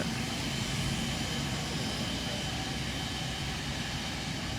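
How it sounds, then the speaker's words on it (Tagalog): Airplane departing Marinduque Airport, a steady broadband engine roar filling the whole stretch at moderate distance, with no talk over it. "lumisa na po ang sinasakyang uh, aeroplano ni Senator Bongo dito po sa Marinduque Airport."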